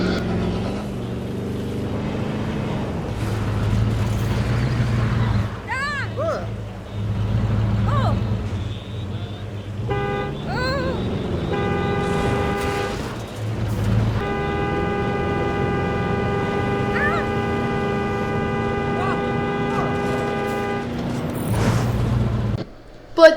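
A ranger team truck in the Jurassic World Evolution 2 video game drives with a steady engine drone and sounds its horn in several toots, including a longer sustained blast, with some talking over parts of it.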